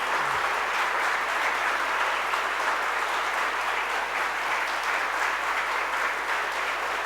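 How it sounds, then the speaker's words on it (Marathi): A large audience at a youth gathering stands and applauds, a dense, continuous wash of many hands clapping at steady volume throughout with no voices breaking through. "आपण उभं राहून 1 मिनिट टाळ्या वाजवणार आहोत."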